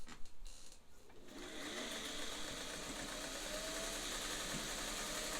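A Singer 400 series sewing machine with an overhauled motor runs a straight stitch, a steady close whirring hum with a fast rhythmic needle clatter that starts after a brief pause and continues unbroken.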